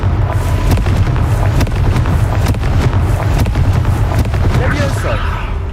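Confringo fire spell cast in the video game Hogwarts Legacy, a loud booming blast with sharp percussive cracks over a dense, rumbling low background.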